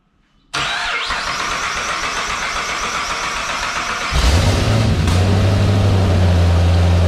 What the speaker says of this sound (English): she runs on starter fluid, so I'm gonna give that a quick squirt and see if it'll run longer than all of a second